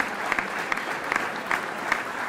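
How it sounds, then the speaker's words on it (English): A luncheon crowd gives the honorary chair a standing ovation at an annual civic luncheon, a thick, continuous wash of clapping with scattered sharper claps poking through. "She got that standing ovation."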